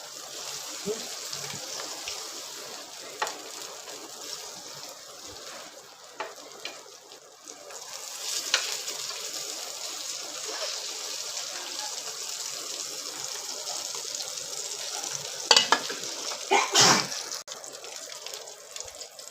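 Mandeli fish fries in a pan with a little oil, giving a steady, close sizzle with occasional sharper pops and crackles, no voices over it.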